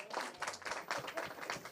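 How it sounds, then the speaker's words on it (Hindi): Audience clapping at a Hindi poetry gathering (kavi sammelan), a steady burst of applause with slightly pulsing rhythm, moderately loud and fairly close, with no talking over it. "मेरे गीत के स्वागत में एक बार जोरदार तालियां बजाइए।"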